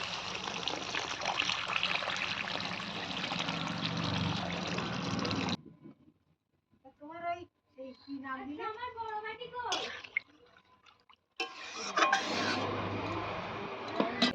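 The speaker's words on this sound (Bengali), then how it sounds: "এবারে আমি ঝোল দিয়ে দেবো বেশি করে" Broth poured generously into a cooking pot for soybean bori curry, a broad steady liquid rush that stops, then a gap where a voice is heard, then pouring and clinking resume.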